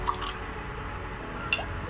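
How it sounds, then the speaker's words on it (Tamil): Water poured into agathi greens soup gives a soft continuous liquid pour and trickle, with a couple of brief drips or splashes, fairly quiet and heard alone. "இப்போ ஊற்றுறது தண்ணி."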